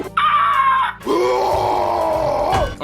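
A voice lets out a long, strained villainous scream, harsh and sustained, preceded by a brief higher-pitched yell; a human imitation of Drago Bludvist from How to Train Your Dragon 2, loud and close.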